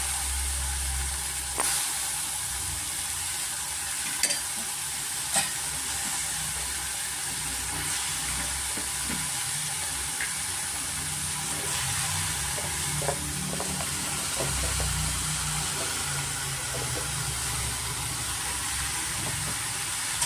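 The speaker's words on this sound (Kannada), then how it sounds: "ಇದು ಚೆನ್ನಾಗಿ ನಾವು ಮಿಕ್ಸ್ ಮಾಡ್ಕೋಣ ಸ್ವಲ್ಪ ನಾವು ತರಕಾರಿಗಳೆಲ್ಲ ಸ್ವಲ್ಪ ಮೇಲೆ ಫ್ರೈ ಮಾಡ್ಕೋಣ" Ridge gourd and green brinjal sizzle steadily in a pan while being stirred, with a continuous frying hiss and occasional scraping clinks of the spatula throughout.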